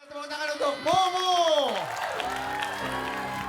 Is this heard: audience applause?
yes